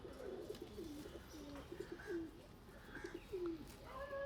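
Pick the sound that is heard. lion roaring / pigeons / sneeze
pigeons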